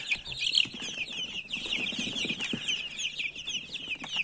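Young chicks kept in boxes and fed on cheese, egg, feed and grain cheep continuously in high, dense chirps, with occasional soft fluttering and shuffling nearby.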